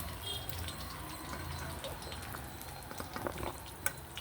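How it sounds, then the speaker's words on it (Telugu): Curry leaves sizzling in hot oil for tempering a raw cashew curry, a steady soft crackling fry with a few sharper pops near the end, heard up close with no talking. "ఫస్ట్ కరివేపాకు వేస్తున్నాను. దీనికి పోపేను నేను."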